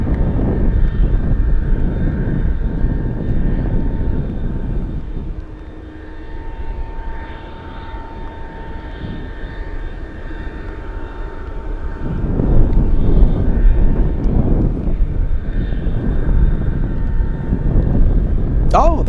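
A Giant cargo jet, flight 8120, departs Anchorage for Los Angeles in gusty wind, its loud sustained engine roar swelling and easing, with voices in the background.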